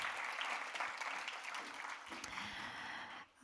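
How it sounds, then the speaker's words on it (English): A conference crowd at a food-tech startup pitch event claps steadily for a presenter, a sustained wash of applause at moderate level that fades out near the end. "Big applause"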